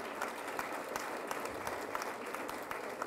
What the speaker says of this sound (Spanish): Recibimos entonces con un fuerte aplauso